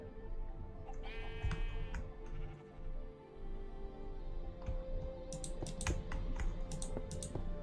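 Minecraft sheep bleating in a video game with yellow-dyed sheep in play, wavering bleats over steady game ambience, followed by a run of rapid clicking taps.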